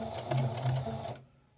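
A Singer Confidence Quilter sewing machine runs a short backstitch, a quick, close burst of mechanical stitching thumps lasting about a second before stopping.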